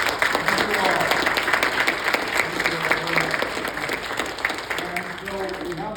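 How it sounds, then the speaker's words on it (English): Sustained audience applause for a panel at a school voucher forum in Texas, a dense steady clapping from a full room lasting throughout, with faint voices murmuring beneath it near the end. "can I have another round of applause for our terrific panel?"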